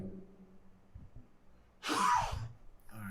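A single sharp human sneeze bursts out close and loud after a quiet stretch of room tone and soft low rumble, followed by a brief breathy tail.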